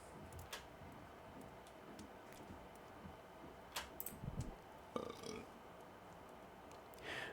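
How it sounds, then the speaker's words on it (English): Burping sound effect from the video game Lost Flame, a few short gurgling belches in the middle of a faint, busy game soundscape with small ticking clicks, no talk over it. "Here goes burping again."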